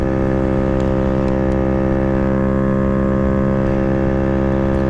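A GY6 139QMB scooter engine with a Polini 95 mm kit in a Maddog 50 revving steadily at high RPM, a loud, constant buzzing drone rich in harmonics with no change in pitch and no voices.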